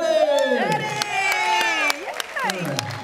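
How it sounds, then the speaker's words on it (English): Crowd at a Mother's Day luau cheering, whooping and clapping loudly, with children's shouts mixed in and a voice calling out over the noise. "All right, everybody round of applause for Eddie!"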